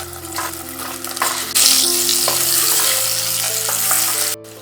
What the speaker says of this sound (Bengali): এটাকেও লাল করে ভেজে নিয়েছি